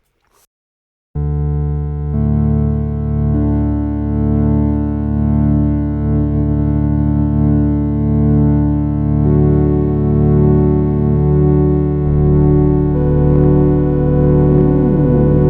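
After a brief silence, a Siel synthesizer's Flute 16 preset enters and holds long sustained notes, smooth and slightly buzzy, changing pitch near the end.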